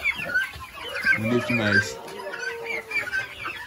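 Chickens on a farm, including a salmon-colored hen, clucking and squawking close by in overlapping calls, while a person speaks briefly over them.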